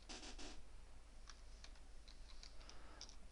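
Soft keystrokes tap on a computer keyboard as a command is typed, first a quick cluster of presses and then scattered, fairly faint clicks over a low steady hum.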